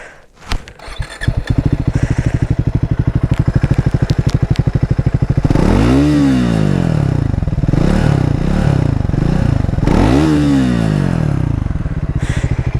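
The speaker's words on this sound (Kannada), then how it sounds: "ಹಾಗೆ ಎಕ್ಸಾಸ್ಟ್ ನೋಟ್ ಕೇಳಿಸೋಣ ಬನ್ನಿ ನಿಮಗೋಸ್ಕರ" A Triumph 400 motorcycle with ride-by-wire throttle starts up close by, then settles into a loud, steady idle broken by two sharp revs that swell and fall away, with no talk over the exhaust.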